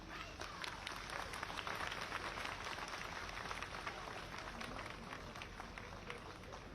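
An audience applauds at the launch of the 2022 school enrolment campaign, a steady dense wash of clapping from a large crowd that holds at an even level throughout.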